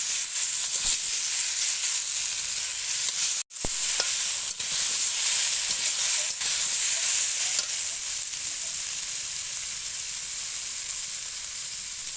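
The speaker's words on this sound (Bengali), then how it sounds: "লঙ্কা আদা বাটা দেবো একটু আদা বাটা দিয়ে আমি আবার ভালো করে কষিয়ে নেবো" Chili and ginger paste sautéing in a hot pan hisses and sizzles steadily and up close, broken by a few sharp stirring clicks and one brief cut, with no talking.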